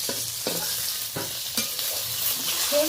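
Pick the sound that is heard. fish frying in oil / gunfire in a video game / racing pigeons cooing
fish frying in oil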